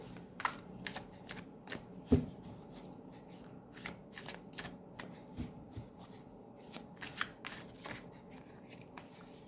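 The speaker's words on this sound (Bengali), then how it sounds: "অনেকগুলো কার্ড আসছে, আমি আর একটু শাফল করে একে একে কার্ড নিচ্ছি।" Tarot cards are shuffled by hand close up, producing soft riffling flutters and crisp slaps in irregular bursts over a quiet background with no talking.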